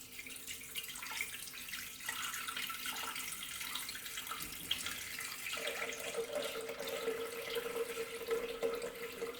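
Water poured from a tap into the bowl of a ThermoCook Pro M kitchen machine while 800 grams are weighed, a continuous close splashing hiss whose pitch rises to a clearer ringing tone as the bowl fills.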